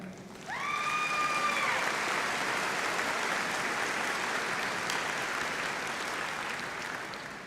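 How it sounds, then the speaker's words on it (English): Audience applauding doctoral graduates at a summer university commencement ceremony, sustained even clapping from a large crowd lasting several seconds after a brief high whistle-like tone near the start. "Please join me in extending another round of applause for our doctoral graduates."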